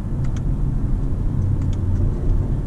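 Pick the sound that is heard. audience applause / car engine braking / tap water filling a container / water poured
car engine braking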